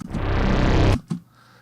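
A dense, noisy Deckard's Dream synthesizer tone holds for about a second, then cuts off and leaves a short tick followed by quiet fading hiss.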